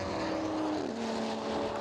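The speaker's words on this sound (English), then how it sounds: "I wonder if that's this car that we're hearing with that binary throttle pedal" At a GRIDLIFE Finals race at Pittsburgh International Race Complex, a race car engine with a binary throttle pedal drones loud and steady, then its pitch drops quickly as it comes off the throttle.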